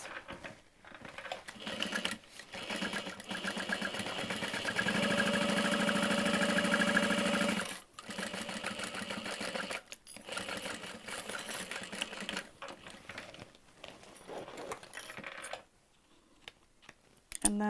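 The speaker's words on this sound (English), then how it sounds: "And we're sewing underneath it." Sewing machine stitching a 3/8 inch seam along a handbag lining, with a long steady whirring run in the middle, shorter bursts before and after, and brief pauses between them.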